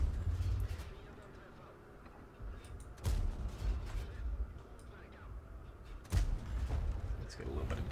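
Tank guns firing in World of Tanks, two heavy booming shots a few seconds apart over a low rumbling battlefield background, with speech faintly present.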